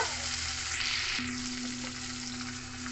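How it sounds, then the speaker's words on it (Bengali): Chopped tomatoes fry in a pan with a steady, close sizzle and a soft low hum running underneath throughout. "কুচিয়ে রাখা টমেটো। ভালো করে ভেজে নেব।"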